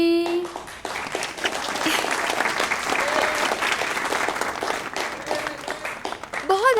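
An audience applauds a singer's performance with sustained, dense clapping at moderate distance. It swells and holds steady for several seconds, and a brief voice comes in at the very end.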